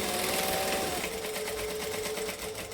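A sewing machine runs steadily, stitching a zip around the bottom edge of a wallet in one continuous close, fairly loud mechanical whir.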